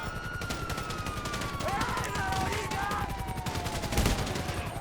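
Gunfire rattles in Grand Theft Auto V, rapid repeated shots from a close weapon firing at a helicopter, with engine whine and a heavier blast near the end while players talk over it.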